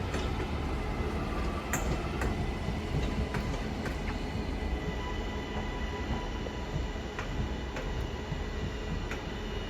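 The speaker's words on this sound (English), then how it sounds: "331 about to arrive from Leeds" A British Rail Class 331 electric train arriving at Doncaster from Leeds, a loud continuous rumble of rolling stock close by with sharp clicks from wheels over rail joints and a faint high whine.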